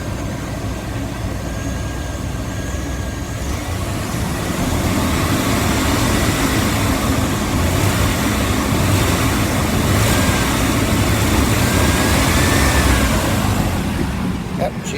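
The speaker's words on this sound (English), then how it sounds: "I'll go over here and rev the gas up by the cable" A 1998 Chevy 1500 pickup engine with fuel pump trouble is revved by hand at the throttle cable: a loud, close roar that swells after a few seconds and then holds at a high, steady level.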